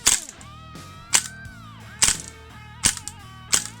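A WELL G-11 MAC-11 gas blowback airsoft machine pistol firing .25 BBs gives five sharp, close single cracks, evenly spaced just under a second apart, each with a short ringing tail.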